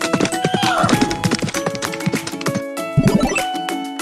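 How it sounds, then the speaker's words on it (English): A horse's hooves clip-clop loudly in a quick rhythm and a whinny rises partway through, clear and alone with no talking. "H is for horse."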